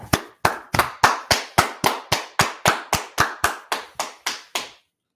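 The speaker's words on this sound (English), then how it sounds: "Let's clap it up." Unison clapping at an outdoor street gathering of a religious group in Washington DC: about sixteen sharp, evenly spaced claps in a steady slow beat, loud and close, with no talking over them.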